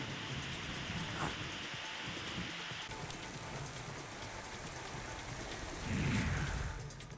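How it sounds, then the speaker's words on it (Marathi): Heavy monsoon rain pours down steadily in Raigad district, Maharashtra, a dense, even hiss that swells briefly louder near the end. "अलिबागसह माणगाव, नागोठाणे, पाली, म्हसळा, श्रीवर्धन, मुरुड या भागाला पाऊस झोडपून काढतोय"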